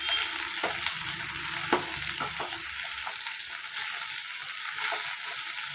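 Capsicum frying in oil for capsicum chitranna, a loud, continuous close sizzle with occasional soft clinks and stirring scrapes.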